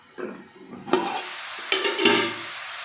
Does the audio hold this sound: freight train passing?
no